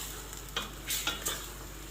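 A spoon stirs tomato juice into a green bean stew in a pot over a faint sizzle, with a few short scraping strokes against the pot.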